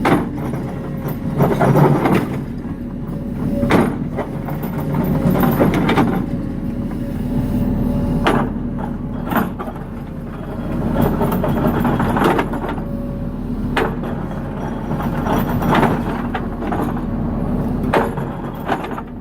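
A Kobelco excavator rips frozen ground in winter frost: a heavy diesel engine drones steadily while repeated scraping and cracking bursts of the ripper tearing through hard ground recur every couple of seconds.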